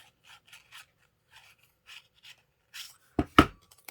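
Repositionable adhesive tape peeled from cardstock during card crafting: a few soft scratchy strips early on, then two louder, sharp ripping pulls close to the microphone near the end, with no talk.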